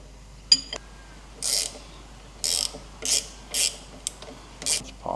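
Tightening a steering idler box on an FJ45 Land Cruiser with a ratchet: about six short, bright rasping ratchet strokes spaced roughly evenly, close and moderately loud, with a small clink at the start.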